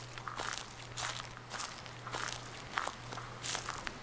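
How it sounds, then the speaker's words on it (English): Footsteps crunch steadily in Slender: The Eight Pages, a regular walking rhythm of soft, gritty steps over a low constant hum, fairly quiet and with no talk. "I hear footsteps."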